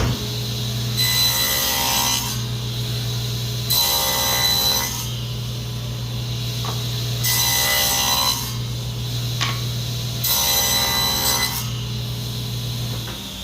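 A fine-toothed saw blade cuts a rabbet in plywood for a Shaker-style door, making four loud, sustained cutting passes with short gaps between them over a steady motor hum.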